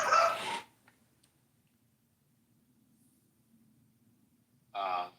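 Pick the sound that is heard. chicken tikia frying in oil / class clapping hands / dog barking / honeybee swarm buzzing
dog barking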